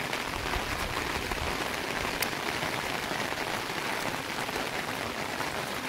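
Steady rain falls on the surfaces of a village near fields and a farmhouse, a dense, even patter with no voices.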